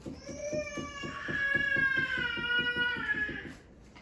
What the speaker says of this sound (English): You can probably hear Asher in the background playing